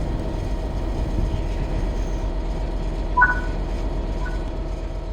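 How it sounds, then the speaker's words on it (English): A Class 66 diesel locomotive in Train Sim World 3 rumbles steadily as it accelerates under throttle, a constant low engine drone with a couple of faint brief tonal squeals, with no talking. "Apply some throttle to get the train moving."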